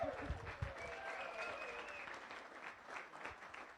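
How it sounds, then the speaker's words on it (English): At a Rotary Club weekly meeting, a room of people claps in sustained applause, fairly soft and slightly distant, with a few voices murmuring underneath near the start. "Please give her a big round of applause."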